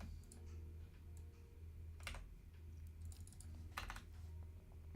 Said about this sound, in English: I'm typing all that out.